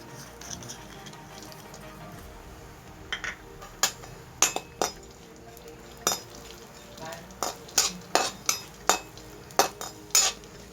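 Dry fruits and raisins roasting in warm ghee, stirred with a metal spoon in a pan: faint sizzling under a series of sharp clinks and scrapes, sparse at first and then regular and closely spaced.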